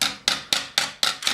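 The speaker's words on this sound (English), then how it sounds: "You can use a hammer to help, using the narrow portion of the horn" Steady, evenly spaced hammer blows on a steel Milanese mitten gauntlet plate shaped over the narrow horn of an anvil, six sharp metallic strikes at a regular rhythm, close and loud.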